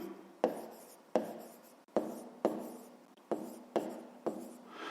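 Pen strokes on paper while a math word problem about boxes of goods is written out, a series of about seven scratchy strokes, each starting sharply and trailing off, close and fairly quiet with no talk.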